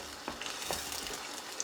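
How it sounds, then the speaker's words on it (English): Shito, a Ghanaian pepper sauce of dry ingredients with broken Knorr cubes, sizzles softly in a pan while being stirred, faint frying with a few small scrapes and pops. "and keep stirring"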